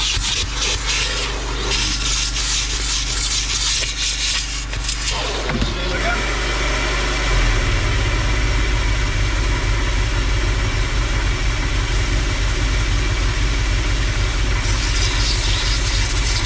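A generator runs steadily during a mobile car valet, a constant mid-pitched engine drone that grows louder and fuller partway through, with rubbing and scrubbing noises from cleaning mixed in.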